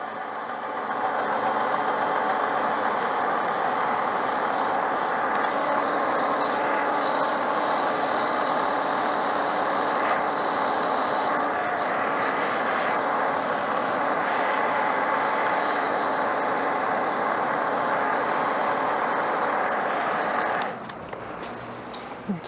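A lathe takes a deeper, faster-fed cut while turning a balancer spacer. A loud, steady whirring roar with a constant high whine holds for about twenty seconds, then stops abruptly near the end.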